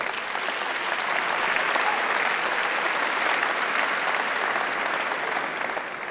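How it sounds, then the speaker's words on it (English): Audience applause at a startup event, the Get in the Ring pitch competition in the Netherlands: dense, steady clapping from a sizable crowd that holds at an even level for about six seconds and tapers slightly at the end. "I think that deserves a very big round of applause."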